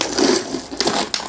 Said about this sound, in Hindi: एल्युमिनियम के 50 पैसे हैं इसमें, 1 के सिक्के हैं 10 पैसे, ये 2 पैसे।